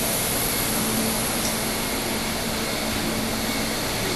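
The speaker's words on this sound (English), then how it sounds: "And that's the dryer." An industrial clothes dryer at a production facility roars steadily in a loud, broadband whoosh that fills the whole stretch without pause or talk.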